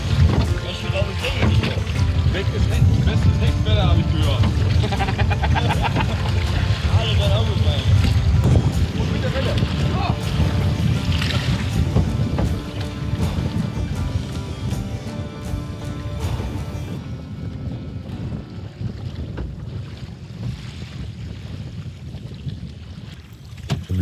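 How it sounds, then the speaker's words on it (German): Steady storm wind roars and waves churn around a canoe in Sweden for the whole stretch, with faint voices underneath and the noise easing slightly toward the end. "wurde der Wind immer stärker und die Welle immer größer"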